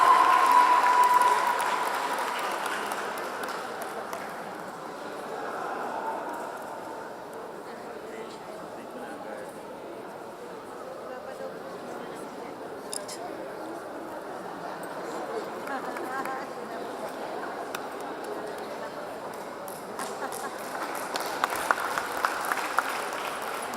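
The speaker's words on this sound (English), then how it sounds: "A big hand for our superstars." Audience applause at a school festival and quiz event honouring winners, a long, fairly distant and even wash of clapping that stays moderate throughout, with crowd murmur mixed in and a slight swell near the end.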